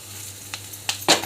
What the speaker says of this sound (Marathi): थोडासा गॅस वाढवून आपण मस्तपैकी फ्राय करून घेऊया